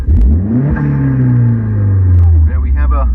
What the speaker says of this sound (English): There we have a dump valve.